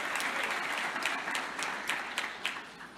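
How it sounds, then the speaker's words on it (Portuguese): A church congregation applauding, a steady wash of clapping from a crowd heard at a moderate distance, fairly quiet, with a few sharper individual claps standing out. "Aplauda o Senhor Jesus."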